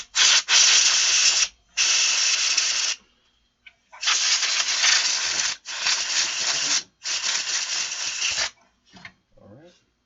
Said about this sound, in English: Now I'm going to clean the fan off without letting it spin up to too high a RPM.